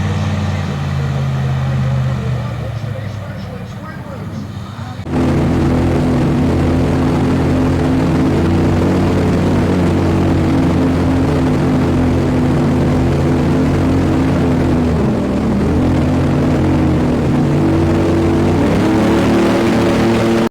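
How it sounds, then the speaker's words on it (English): An airboat coming in at Camp Holly in Melbourne, Florida: a steady, loud, droning engine and propeller roar that jumps in level after a few seconds and holds continuously, close by. "Here's one of the airboats coming in right now."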